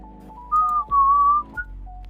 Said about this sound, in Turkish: Daha doğrusu ıslık öttürürken.